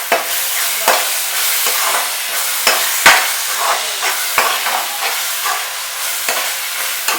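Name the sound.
ginger garlic paste frying in pan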